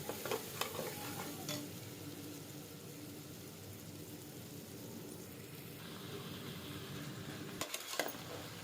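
Mixed vegetables for a Bhogi special sabzi sautéing in a pan, a soft steady sizzle with faint stirring and occasional clinks of a utensil against the pot.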